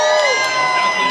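Cheering and shouting from a crowd at a mariachi performance in Napa, California, a loud, dense wall of voices with whoops, with speech mixed in throughout.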